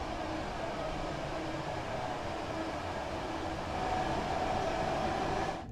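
Class 387 electric train running on the West Coast Main Line toward Birmingham in Train Sim World 3, a steady, loud rolling rumble and hiss that holds evenly throughout.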